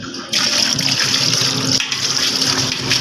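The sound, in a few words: dirty water draining from a Mitsubishi Strada fuel tank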